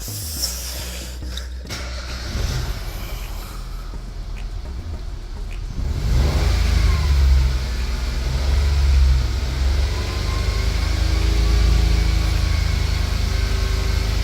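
A Nissan Micra engine, mid-rebuild and running rough, idles steadily up close with a low, uneven drone; after a few seconds it grows louder and rougher with a hissing edge and some unsteady rumbling.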